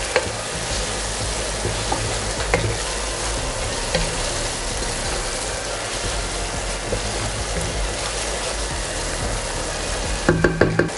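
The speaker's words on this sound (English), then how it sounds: "Stir it well with the tomato and the onions." Green chilies being stirred with tomato and onions in a pot for Thalassery chicken biryani, a steady close sizzle and frying hiss with light scraping of the spoon, ending in a few clinks.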